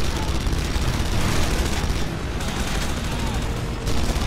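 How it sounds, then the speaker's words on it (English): Dense, continuous gunfire roars through a Red Faction Guerrilla firefight, a loud unbroken rattle of shots with brief dips in intensity, clearly dominating the scene. "I just gotta shoot him"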